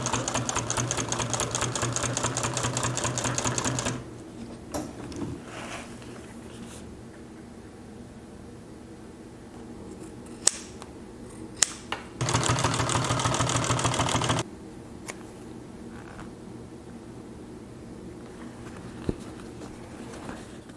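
A Consew 339RB-4 double needle walking foot sewing machine stitches in two loud, fast, steady bursts with a quiet pause between them, plus a few faint clicks as the fabric is handled.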